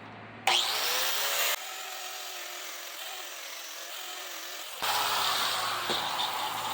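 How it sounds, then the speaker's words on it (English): An angle grinder fitted with a worn, higher-grit sanding pad skates over the bevel of a knife made from a pipe wrench, giving a loud continuous whirring grind that shifts in pitch as the pad presses and lifts. "we are going to take the grinder and we are gonna take a sanding pad, a lighter, like more used, higher grit sanding pad, and we are going to skate over the bevel"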